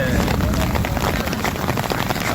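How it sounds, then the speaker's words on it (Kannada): Heavy rain with hail pours down in Anekal, Karnataka, a dense, loud, continuous roar of drops with vehicles nearby and voices talking underneath. "ನಾವು ಚಿಕ್ಕ ವಯಸ್ಸಿನಲ್ಲಿ ನೋಡಿಲ್ಲ ಈ ಥರ ಮಳೆನ"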